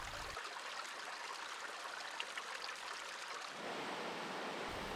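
Mountain river rushing over stones and boulders, a dense, continuous broadband roar of flowing water, close and steady, briefly thinning before swelling again, no voices.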